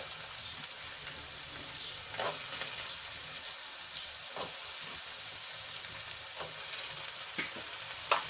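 Cowpeas and eggplant sautéing in hot oil give a steady, soft sizzle with a few sharper crackles and stirring scrapes, with no one speaking.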